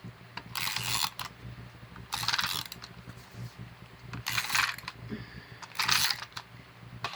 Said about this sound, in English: So I'm just going to use some tape here.